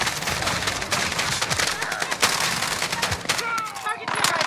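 Gunfire in a first-person shooter video game crackles in rapid bursts and sharp single shots, loud and dense, with faint voices in the background.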